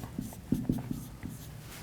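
Chalk or marker strokes on a board during a maths lesson on polynomial functions, a few short scratchy taps and scrapes close by, faint and without talk.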